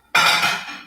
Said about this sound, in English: Only person I ever heard wash dishes with a hammer.